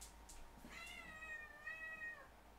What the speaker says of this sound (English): Let me let my cat out,